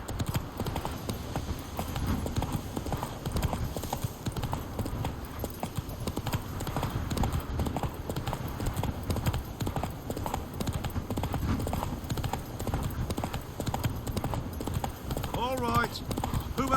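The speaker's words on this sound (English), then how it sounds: "horses racing" Horses gallop in The Witcher 3: Wild Hunt with steady, rapid clip-clop hoofbeats racing close by, thick and continuous across the stretch, mixed with game ambience and voices talking over them.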